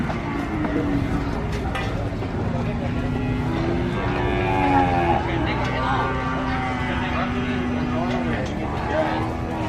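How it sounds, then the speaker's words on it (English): Cattle moo repeatedly as a farmer unloads them from a truck on a cattle farm, the drawn-out calls rising and falling over steady engine and background noise, with people talking throughout. "There are still another cattle from the truck, unloading by the cattle farmer."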